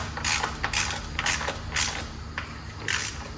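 A torque wrench ratchets while tightening valve cover bolts on an M44 engine, giving six close, crisp bursts of clicking in an even rhythm over a low background hum.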